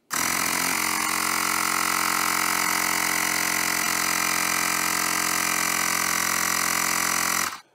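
A Xiaomi portable air compressor pumps air into a Ninebot electric scooter tyre, running with a loud, steady buzzing drone close by for about seven seconds before cutting off.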